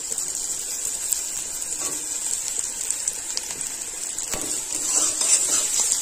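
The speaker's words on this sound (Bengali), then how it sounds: "পেঁয়াজ লঙ্কার সঙ্গে আলু খুব ভালোভাবে ভেজে নিতে হবে।" Onion, chili and boiled potato frying in a pan, giving a steady close hiss and sizzle with a few light scraping and stirring clicks throughout.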